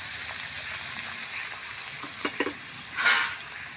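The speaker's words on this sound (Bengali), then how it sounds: "ভালো করে ভেজে নেব।" Pea greens with salt and turmeric sizzling steadily in a pan, with a few scraping stirs near the end, fairly quiet and close, no talking.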